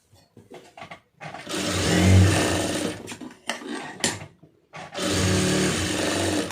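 A sewing machine stitches a plain blouse in several bursts, short stuttering runs building into two long steady whirring passes, close and clear with brief pauses between.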